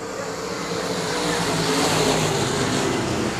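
Sprint cars roar away after the green flag at Cotton Bowl Speedway, a dense, steady engine drone building slightly in loudness from several cars at a distance.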